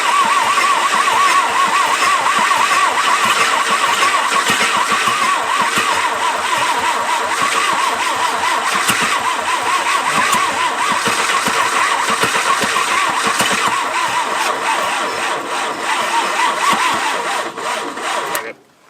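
An old abandoned Jeep, about 80 years old, runs loudly and steadily close by with a rough, raspy idle, holding a constant drone before cutting off at the end.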